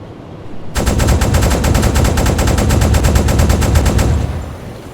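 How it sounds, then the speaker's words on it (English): A submarine deck gun in a video game fires high explosive rounds in a rapid, loud, continuous burst of evenly spaced shots lasting about three seconds before cutting off. "We got a couple rounds. Couple rounds remaining on the deck gun."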